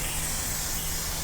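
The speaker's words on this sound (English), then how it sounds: "I'm going to give it a spray with disinfectant," A steady, close hiss of disinfectant aerosol spray on a 1941 His Master's Voice model 411 console radio, continuous and unbroken for about a second.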